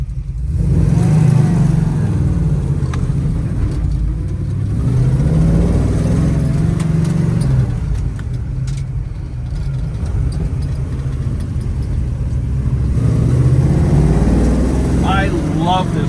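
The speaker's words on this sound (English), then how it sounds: "we're going for a spin in our badass 1965 Chevelle Malibu SS" A 1965 Chevrolet Chevelle Malibu SS with an aluminum-headed LS7 454 big-block engine rumbles steadily while driving, its low engine drone holding loud and continuous with shifts in revs.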